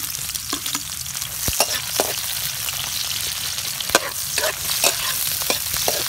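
Onion sautés in a hot pan with a constant bright sizzle and occasional scrapes and knocks from stirring. No one speaks.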